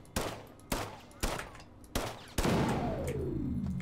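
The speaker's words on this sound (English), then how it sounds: "And I'm just gonna shoot this one." Four or five sharp gunshots from the video game System Shock Remake fire in an uneven sequence, each followed by a short decay, with the last one leaving a longer falling electronic whine.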